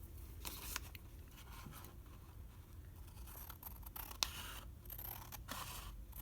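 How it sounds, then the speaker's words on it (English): Scissors snip through a 6 by 6 inch paper card along a fold line toward the center, faint close crunching cuts over a soft steady background hiss. "you're just going to cut along one of the lines to the center."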